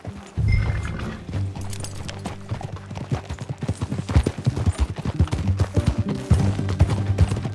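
Horse hooves clop in a steady rhythm that quickens toward the end, over a low, droning musical background, in the video game Red Dead Redemption 2.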